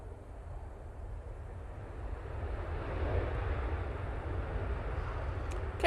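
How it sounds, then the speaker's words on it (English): A KLM Boeing 737 airliner landing at Manchester Airport after a flight from Amsterdam, its broad jet roar rising steadily from a distant rumble to a nearer, fuller wash of engine noise, with no voices over it. "KLM 737 coming in from Amsterdam with some beautiful light on it"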